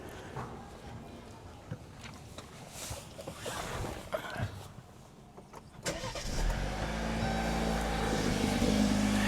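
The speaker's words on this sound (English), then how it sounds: "I'm going to hit the boost button, and now we're going to go ahead and start the car." A car is started with the help of a jump starter booster pack. Handling noises come first, then the engine cranks and catches and settles into a steady, close idle.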